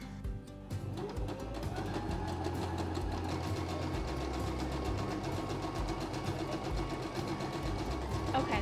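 A sewing machine runs steadily stitching a long straight sleeve seam, a dense continuous mechanical whir with rapid needle clatter, close and fairly quiet throughout without pauses.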